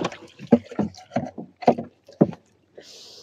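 Water is bailed out of a rowboat on a river in a series of uneven splashing scoops, loud and close. Near the end a steady rushing hiss of water takes over.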